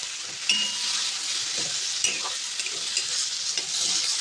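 Cauliflower is stirred as it fries in oil in a wok, with a steady close sizzle and intermittent scraping clinks of the spoon against the pan.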